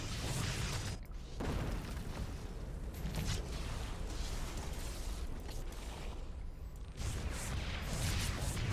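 Photon cannons blasting a Zerg Queen in a late-game StarCraft II battle, a dense, continuous wash of loud booms, crackles and mechanical impacts with brief dips near one and seven seconds.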